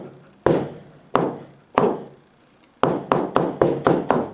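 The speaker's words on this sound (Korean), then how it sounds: "이렇게 칼질이 되는 겁니다" Knife chops striking a cutting board during a cooking knife-technique demonstration: three slow, spaced hits, then a quicker run of five or six sharp, close chops, with no talking.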